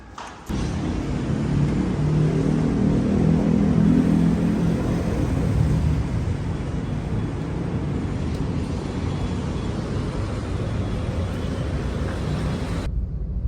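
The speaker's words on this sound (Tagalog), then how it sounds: "Traffic." Steady low road-traffic rumble heard from inside a moving car in San Juan, continuous and muffled with no talk, cutting off near the end.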